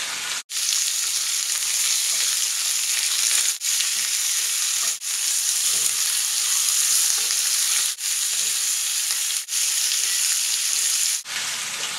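A ribeye steak sears in a hot, smoky pan, giving a loud, steady, close sizzle that runs almost without a break, with a few brief dips.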